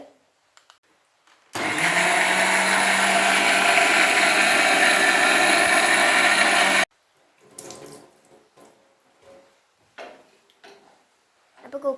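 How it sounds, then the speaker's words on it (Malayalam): A mixer grinder grinding coconut whirs loudly and steadily for about five seconds, then stops abruptly, followed by quiet clinks and brief speech. "മിക്സിയിലേക്ക് തേങ്ങ ഇട്ട് കൊടുത്തിട്ടുണ്ട്"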